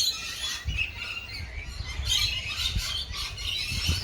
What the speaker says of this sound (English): where we found a beautiful parrot.